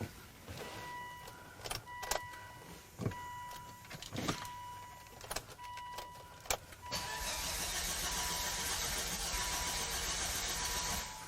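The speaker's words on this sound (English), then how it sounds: "Well, it cranks okay." A Volvo V70R starter cranks in several short bursts with clicks and whirs between them, then settles into a steady, sustained cranking whine that never catches into running, heard close with no talk.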